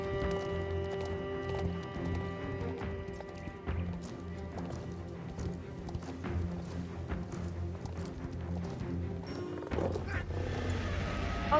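Horse hooves clip-clop steadily in the video game Star Stable Online, layered over a continuous music bed with a brief brighter swell near the end.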